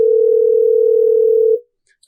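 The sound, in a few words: telephone dial tone while calling someone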